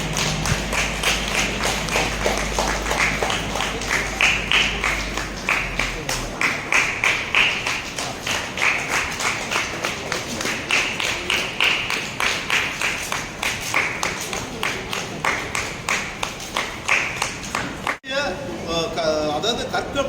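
An audience clapping at a Tamil-language public event on training students for government jobs: a steady, rhythmic run of claps lasting about twenty seconds, fairly loud, with a voice speaking over much of it.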